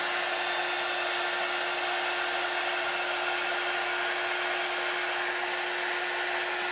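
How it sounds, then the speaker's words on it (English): A quick dry heat tool blows a steady, loud, unbroken whoosh of hot air over a chalk-painted project, holding one even tone from start to finish with no voices over it. "Sometimes I'll take my quick dry tool and give it a little last drying."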